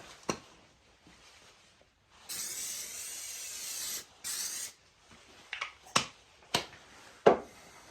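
CA glue accelerator sprayed onto a guitar headstock veneer, two short hissing spray bursts close by, followed by several sharp clicks and taps in a quiet room.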